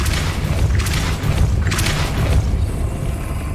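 Depulso force spell cast in the Hogwarts Legacy video game: a loud, booming magical blast with two bright whooshing bursts over a dense low rumble, no talking.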